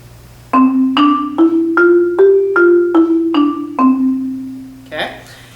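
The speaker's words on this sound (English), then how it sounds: "If I were to switch to these teal mallets, they have a slightly softer sound." Eight mellow marimba notes struck one after another with softer yarn mallets, a steady melodic run ringing warmly with rounded attacks, close and clear.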